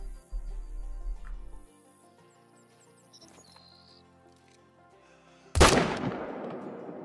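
A single loud, sharp rifle shot fired at a large mule deer buck while hunting in the video game Call of the Wild, with a long ringing tail after a quiet lead-in, and no voices.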